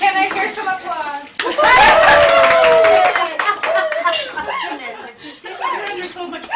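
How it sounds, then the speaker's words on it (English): A small class of students claps after a floating-ball demonstration. The scattered, uneven handclaps mix with chuckles and a teacher's voice talking over them. "Can I hear some applause?"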